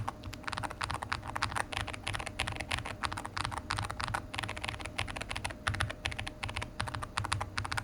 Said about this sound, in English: So these three are the default switches, and these three are the Jade Pros.